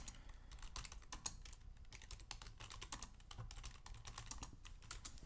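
Keys clatter on a computer keyboard in quick, irregular bursts of close, quiet taps, with no talk over them.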